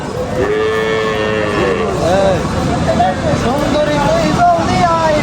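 Several loud, nearby cattle moos overlap one another at a cattle market, long drawn-out lowing calls repeating, with people talking in the background.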